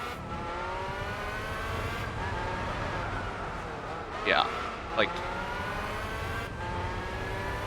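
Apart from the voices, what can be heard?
race car accelerating in the video game Gran Turismo 4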